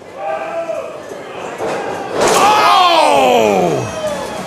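At a wrestling match, a wrestler is slammed into a metal shutter door, a loud crashing impact that rises out of crowd noise and lingers, with a commentator's voice nearby.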